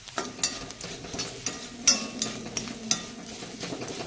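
Dried shrimp fry with black pepper being stirred in a pan over medium-low flame, a soft steady sizzle broken by a handful of sharp spoon scrapes and clinks against the pan, close and fairly quiet, with no talking.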